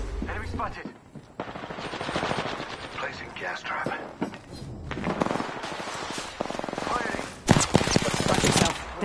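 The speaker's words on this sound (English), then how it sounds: "They spotted me. I'm taking shots." Video game gunfire, with rapid automatic bursts and scattered single shots rattling close and loud throughout, while a voice speaks over the shooting.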